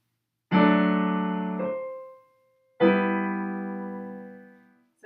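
Two sustained chords played one after another as part of a deceptive cadence progression, each struck cleanly and left to decay, with a short gap between, quiet and solo without speech.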